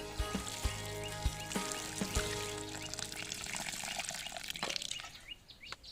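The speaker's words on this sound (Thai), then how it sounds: "แล้วเราก็ใช้น้ำลด ใช้น้ำลดก่อน" Water pours and trickles steadily onto potting soil in a pot prepared for basil cuttings, with a few sharp knocks early on and the flow tapering off near the end.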